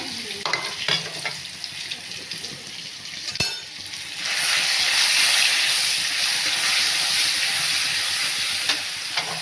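Garlic sizzles in hot oil in a home kitchen pan after whole spices go in, a loud steady frying hiss that surges sharply partway through, with a few scraping clicks and no talking.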